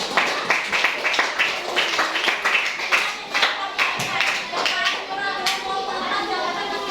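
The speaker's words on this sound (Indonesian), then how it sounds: "Oke, boleh tepuk tangan buat kelompok 3." Children in a classroom clap for a group presentation, a fast, dense patter of many small hands that lasts throughout, with young voices chattering faintly underneath.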